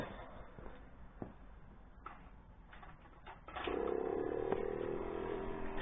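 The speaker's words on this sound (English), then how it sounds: "that's the fuel pump going" A motorcycle fuel pump starts partway through, giving a steady faint electric whine after a few quiet clicks and knocks near a motorcycle.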